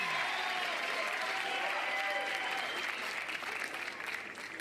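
Crowd applause at a pickleball match at the Veolia Open, a steady dense wash of clapping that holds for several seconds before thinning slightly toward the end, with no talk.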